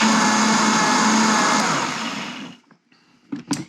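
A kitchen blender whirs loudly at steady speed, blending gazpacho made with cucumber and salt, then winds down and stops, followed by a few light clinks and bumps.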